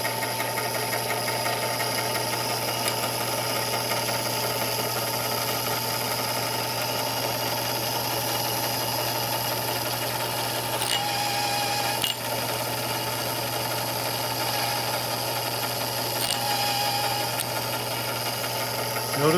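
A Tapmatic tapping head runs steadily with an even mechanical drone and faint whine, briefly shifting tone twice as the handle is flipped to reverse the tap, with no talk over it.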